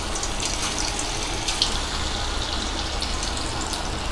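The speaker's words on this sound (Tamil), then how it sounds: "எண்ணெய் காஞ்சிருச்சு. குட்டி குட்டியாக பக்கோடா மாதிரி போட்டுக்கலாம்." Bread and potato pakoda pieces dropped into hot oil give a steady, dense sizzling hiss that continues evenly throughout, fairly loud and close.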